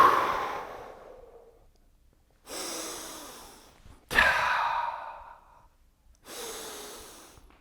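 Four slow, deep breaths during a Shotokan karate class, each a loud breathy exhale or inhale that fades out, separated by short silences, with no talking.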